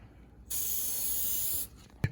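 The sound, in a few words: spraying anti-squeak lubricant on brake pads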